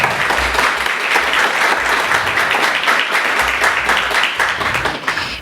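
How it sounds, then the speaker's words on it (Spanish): A festival audience at a popular library gives loud, sustained applause to welcome an Argentine writer as a guest, dense clapping that runs evenly for several seconds before easing slightly at the end. "Un fuerte aplauso para él"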